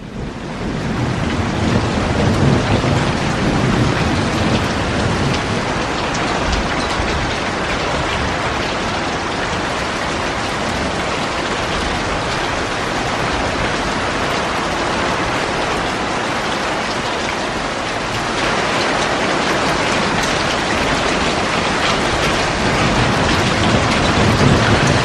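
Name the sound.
hailstorm with heavy rain over vegetable garden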